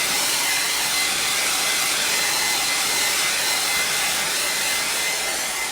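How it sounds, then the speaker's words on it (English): A hair dryer blows steadily and loudly at close range, a continuous airy roar with no pauses or voices. "I'm just gonna hit it with a blow dryer quick."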